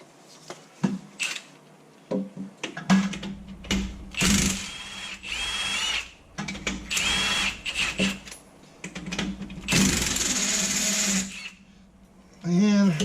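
A power tool removes nuts from a 9-inch rear end being installed in an 82-92 Camaro/Firebird F-body, running in several loud whirring bursts of varying length with short pauses between, close by.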